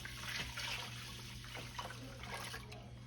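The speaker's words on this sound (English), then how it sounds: "I got my milk here. We're just going to pour all this in the bowl" Milk being poured over cooked rice in a bowl while making creamy rice pudding, a steady liquid splashing and trickling that runs continuously for a few seconds at close range, with a low steady hum beneath and no talking.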